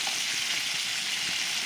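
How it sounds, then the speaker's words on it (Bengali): Fish frying in a pan, a steady close bed of hissing sizzle with no talking. "মাছগুলি ভাজবো"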